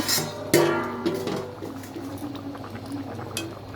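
Chickpea dal with egg bubbling in a pot, a sharp clank of the lid at the start followed by a steady low burble of boiling liquid, close and moderately loud.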